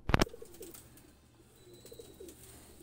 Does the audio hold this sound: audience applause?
no